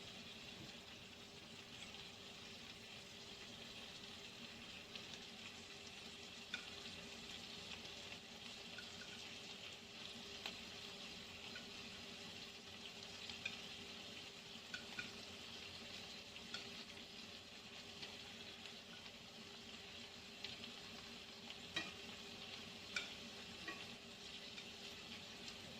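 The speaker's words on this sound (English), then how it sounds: "Now we are going to add our seafood and meat on top of our" Seafood and meat frying on top of cooked vegetables for fajitas in a pan, a faint, continuous sizzle with scattered small crackles and no talking.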